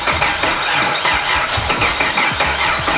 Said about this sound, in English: when we tried to start the car, it almost sounded like it was wanting to run